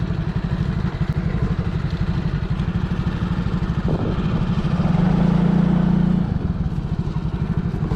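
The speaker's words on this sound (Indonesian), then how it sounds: "Nah, ini pakai traktor kecil ya." Small tractor engine chugging on a narrow village road beside rice fields, a steady rough clatter heard close with a brief louder droning rise partway through, and no talk.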